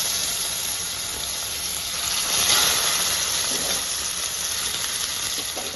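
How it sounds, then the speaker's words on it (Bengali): Fish slides into hot oil in a pan and sizzles loudly, a continuous bright crackling hiss that swells briefly midway and then settles, close up with no talking. "এবার আমি মাছগুলো ছেড়ে দিচ্ছি"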